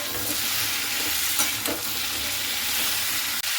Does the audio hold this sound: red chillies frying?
yes